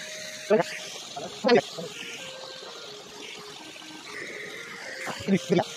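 Water splashing and trickling as freshly caught fish are washed by hand, with a few sharp sloshing bursts over a steady low water background.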